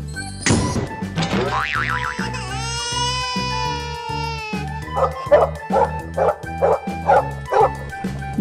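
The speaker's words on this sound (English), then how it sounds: "Dog." Dog barking in a run of short, evenly spaced yips and barks over a musical backing, loud and close, preceded by whining, boinging cartoon-like tones.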